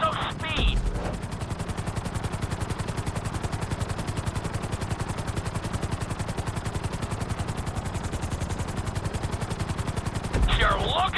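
Helicopter rotor in a GTA 5 flight school mission, a loud, fast, steady chopping throb that persists throughout, with brief radio-style voices at the start and end.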